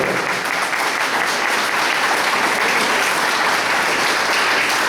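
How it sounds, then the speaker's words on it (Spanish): A church congregation claps loudly and continuously, a dense, sustained burst of applause filling the room for the whole stretch. "¿Le podemos dar un aplauso fuerte al vencedor?"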